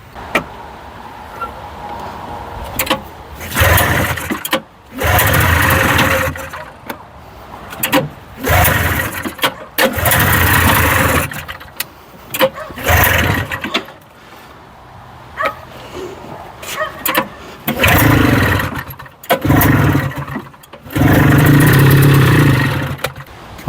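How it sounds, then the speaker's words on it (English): A 1981 John Deere snowmobile engine that starts and runs but seems starved of fuel, heard in irregular bursts of rough running and revving broken by sudden drops and gaps, fairly close and loud. "she fires up and runs right now, but it acts like it's not getting gas"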